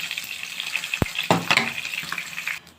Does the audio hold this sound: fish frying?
yes